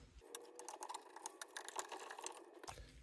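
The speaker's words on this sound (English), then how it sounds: "You're going to want to remove these screws here." Screws being backed out of a drop target assembly on a Gottlieb System 1 or electromechanical pinball machine, a close, quiet run of rapid metallic ticks and ratcheting clicks over about three seconds.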